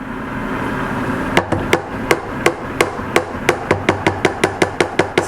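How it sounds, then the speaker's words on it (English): Pound cake pan full of batter banged repeatedly on a kitchen countertop to level it, a run of about twenty sharp knocks, slow at first and then faster and more regular, close and alone. "Excuse the banging"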